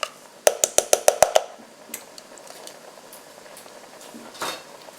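Ingredients for a beef, bean and cabbage stew are stirred in a pressure cooker pot, opening with a quick run of six or seven sharp utensil taps against the pot, then softer scraping and shuffling, fairly close and quiet.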